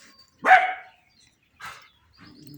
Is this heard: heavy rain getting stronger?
no